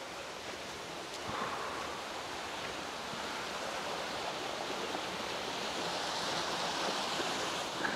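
A spring-water waterfall on the Saluysoy River in Bancod, Indang, Cavite, a steady, soft, hissing rush of falling water heard from a distance, unbroken throughout.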